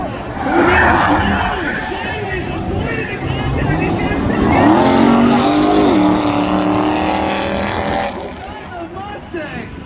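A drag racing car at a spectator drag event screams against its rev limiter, a loud, sustained, stuttering engine note with rising whine midway, under excited voices talking over it.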